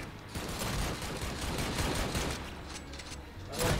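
Sustained gunfire in the video game Army of Two, a dense rattle of rapid shots running throughout at moderate loudness, with a louder burst at the very end and no talking.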